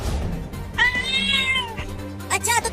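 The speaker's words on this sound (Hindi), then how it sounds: "बड़ी ही बदमाश बिल्ली है" A mischievous cat, being bathed and oiled, lets out a drawn-out rising meow and then a shorter second cry, close and fairly loud, with faint voices in the background.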